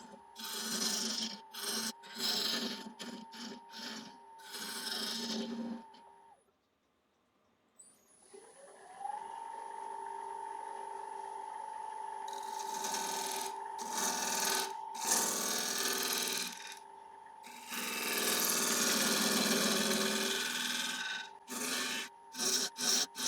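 Ash offcut bowl being shaped on a wood lathe, its underside cut to clear out inclusions: steady scraping and rubbing of tool on spinning wood with a sustained motor tone, pausing briefly partway, then resuming in long continuous passes.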